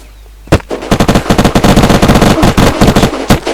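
Rapid bursts of automatic gunfire in the zombie survival game Unturned, loud and close, with a sharp opening shot followed by a dense, stuttering stream of shots and brief pauses.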